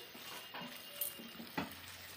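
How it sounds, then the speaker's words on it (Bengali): Chicken being stirred in a cooking pan for a home-style Begomoti chicken curry: quiet scrapes and light clinks of a spoon against the pan over a faint background hiss, close and soft. "একটু নেড়ে দিচ্ছি।"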